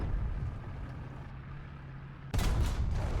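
After a steady low rumble, a sudden loud tank cannon blast from a video game booms, followed by a roaring, lingering echo.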